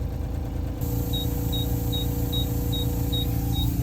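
A gas station air pump runs steadily while inflating a car tire, its motor hum continuous throughout, with a series of short, evenly spaced electronic beeps sounding about seven times over the steady drone.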